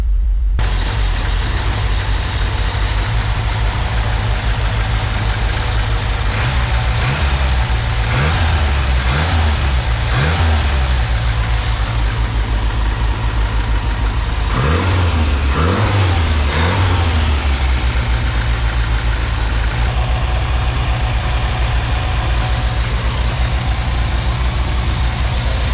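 A turbocharged Toyota 7K car engine idles steadily on its first start, with a few rising revs bursting out midway before settling back to a rough, constant idle.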